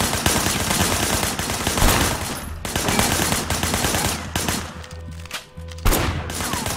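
Bursts of blind-fire gunshots from cover in the open-world action game Sleeping Dogs: loud, rapid, sustained gunfire in several long volleys separated by short pauses, close and dominant.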